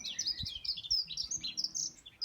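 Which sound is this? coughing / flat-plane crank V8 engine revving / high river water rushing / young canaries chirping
young canaries chirping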